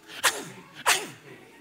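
Two sharp sneezes, each a sudden explosive burst with a trailing breathy tail, spaced about half a second apart and heard close up with no talking.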